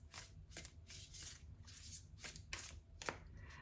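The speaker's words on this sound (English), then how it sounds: "So let's get a few more tarot cards." Tarot cards are shuffled and handled in a steady run of soft riffling and sliding bursts, close and fairly quiet, with no talking.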